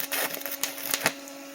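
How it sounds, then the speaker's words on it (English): A welder shuts a gap in a Chevy LUV engine bay during a 4.3 Vortec V6 swap, crackling and popping in short irregular bursts close by, ending with a sharp snap. "I'm going to weld that gap shut"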